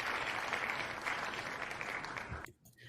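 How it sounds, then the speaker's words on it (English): Loud, steady applause from a crowd fills about two and a half seconds, then cuts off abruptly into near silence. "let me give you the proper round of applause"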